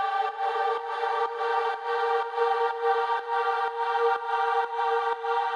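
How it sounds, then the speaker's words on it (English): An atmospheric synth sound for dance music production: a sustained, airy chord-like pad with rich overtones, steady in level, with faint regular dips, and no voices. "Something I like to do is take a really atmospheric sound like this"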